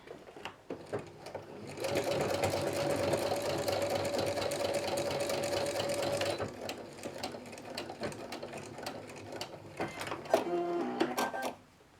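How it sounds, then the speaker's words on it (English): A sewing machine runs a basting stitch on plush fabric, a steady close mechanical whir for about four seconds, then a pause and a few short stop-start bursts with handling clicks. "So again, just doing a basting stitch."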